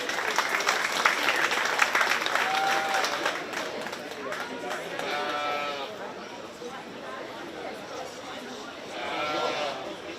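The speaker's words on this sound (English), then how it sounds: "Let's give those kids a big round of applause." A crowd in a livestock show ring at a county fair 4-H sheep and goat show gives a round of applause for the young exhibitors, mixed with sheep bleating and an announcer's voice.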